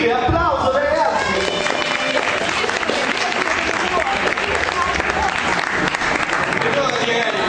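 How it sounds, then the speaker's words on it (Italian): An audience at a cosplay contest award ceremony claps loudly and continuously, a thick steady roar of applause with a voice briefly heard at the start. "Applauso ragazzi."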